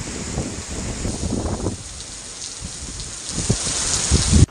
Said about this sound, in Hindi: प्रदेश में बारिश का दौर अभी भी लगातार जारी है